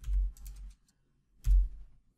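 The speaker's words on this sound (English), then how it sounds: "if you start typing any portion of any diagnostic term" Computer keyboard typing while searching diagnostic terms for ICD-10 codes: two short bursts of soft, close key taps separated by a brief silence, with no voices.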